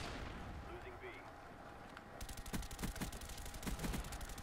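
AK rifle fire in the Black Ops video game: bursts of rapid automatic shots crackling in quick succession over game noise, starting partway through and continuing to the end, moderately loud under a busy background.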